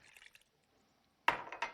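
Water with sugar is poured into a pot of sliced beets, a short splashing gush after a moment of quiet, close and clear, preceded by a few light clinks.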